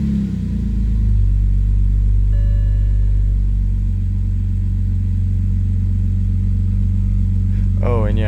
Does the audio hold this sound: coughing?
no